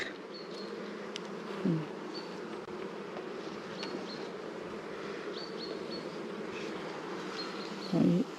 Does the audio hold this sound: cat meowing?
no